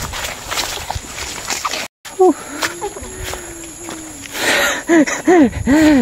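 Heavy, strained panting from someone hiking up a grassy mountain trail, with wheezy breaths and gasps rising and falling close to the mic and a few rustling steps between them.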